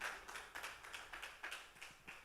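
A Portuguese-speaking church congregation claps in a faint, distant, steady rhythm of regularly spaced beats, continuing throughout.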